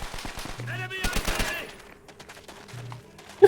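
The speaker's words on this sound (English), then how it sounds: "Oh, I'm getting shot at." Bursts of rapid automatic fire and single shots ring out in the World War II shooter Call of Duty: WWII, a dense volley early on followed by sparser, quieter shots and a sharp final crack.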